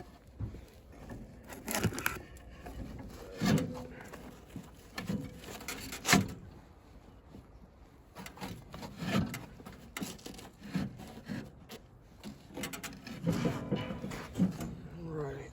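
Metal grill grates set onto a Weber kettle charcoal grill, giving uneven scraping, rubbing and clunking knocks in bursts, with a person talking intermittently.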